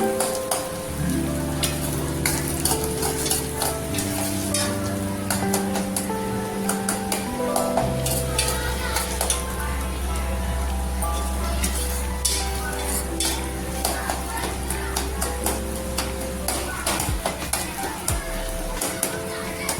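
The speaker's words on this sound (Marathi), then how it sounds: "कांदा, टोमॅटो, लसूण सगळं व्यवस्थित भाजलेलं आहे माझं" Onion, tomato and garlic sizzle as they are stirred in a pan, with scattered light scrapes and clinks of a spoon against metal, all running beneath prominent background music.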